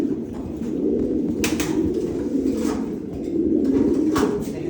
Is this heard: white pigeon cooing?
yes